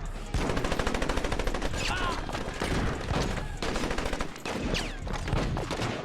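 Dense, rapid automatic gunfire from the video game Saints Row rattles in sustained bursts, loud and close, mixed with a music track.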